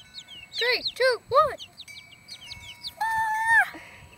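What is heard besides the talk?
baby chickens clucking and chirping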